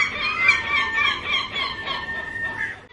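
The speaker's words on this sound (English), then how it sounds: "Seagull" Shrill, nasal bird calls repeat in a steady run of squawks, like a gull crying close by with no other sounds around it.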